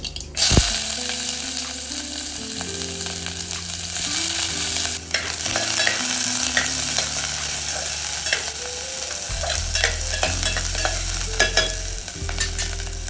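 Onions frying in hot oil with mustard seeds for thin pithla, a loud steady sizzle broken by scraping stirs and light clatter, with a low hum underneath and no voices.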